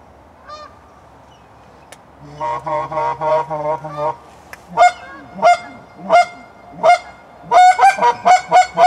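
A flock of geese honks nearby, starting with a dense cluster of overlapping calls, then a steady series of single loud honks speeding up toward the end, with no talking.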